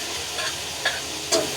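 Ground masala sautéing in oil in a pan for Puneri matki misal, giving a steady close broadband sizzle with two brief sharper clinks or stirring scrapes.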